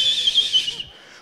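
A person imitates a whistling kettle with their voice, producing a loud, close, steady high-pitched whistle that wavers slightly for under a second and then fades.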